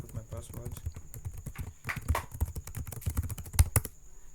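Password typed on a computer keyboard at a Linux workstation: a quick run of light, irregular key clicks with a few sharper taps, close up and heard over a voice talking.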